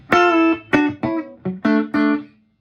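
Several plucked electric guitar notes ring out one after another through a digital delay pedal, each with a repeating echo tail that lingers briefly before the next.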